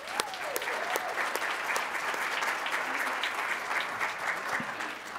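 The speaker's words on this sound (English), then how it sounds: "Let's give Asia and the others a rousing round of applause as they get started." Audience at a schools showcase event breaks into a rousing round of applause for student performers, a dense continuous wash of clapping with occasional sharper claps and a brief whoop near the start.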